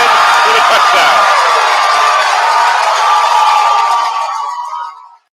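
A loud crowd at a college football game between Mount Union and Grove City roars and cheers after a touchdown, a dense sustained wall of voices that fades out at the end.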